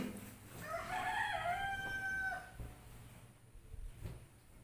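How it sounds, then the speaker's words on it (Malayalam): A rooster crows once in a long, rising and falling call, moderately close, followed by quieter outdoor background noise. "പുറത്തുനിന്ന്, കോഴികളും എല്ലാ സൗണ്ടും കേൾക്കും"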